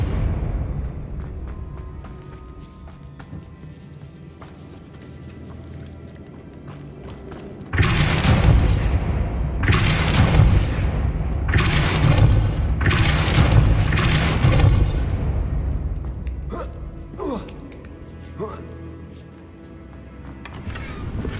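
Confringo blasting spells going off in Hogwarts Legacy on PS5, a quiet stretch breaking into a loud run of four or five heavy booming explosions close together, then fading to smaller thuds and a calmer backdrop.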